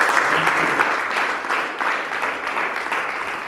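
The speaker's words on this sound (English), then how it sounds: "Can you once more give some round of applause for Mr. John?" Audience applause at the PSLS Got Talent 2022 competition final, as the crowd claps for Mr. John: dense, sustained clapping from a sizeable crowd that slowly tapers in loudness, with no talk over it.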